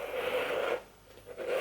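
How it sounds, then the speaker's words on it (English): A gold zipper on a Louis Vuitton Giant Monogram coated-canvas bag slides open with a steady raspy scrape, pauses briefly, then runs again, close and clear. "And the zipper is so smooth,"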